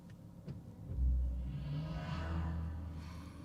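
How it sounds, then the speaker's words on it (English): A soft synthetic start-up tone from a Mercedes EQE 53 AMG electric car in Sport Plus mode: a low hum swells up with a gentle rising whoosh, quiet and smooth, with no engine rumble. "Switching it up to Sport Plus and starting up the car right over here."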